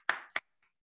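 Two sharp hand claps in quick succession, the first ringing slightly longer, then silence, heard in a small training room.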